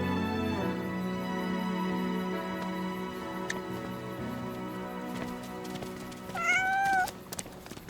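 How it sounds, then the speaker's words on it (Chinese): An injured kitten meows a few times, thin and high, near the end, after a stretch of humming background noise. "这怎么有只小猫啊？"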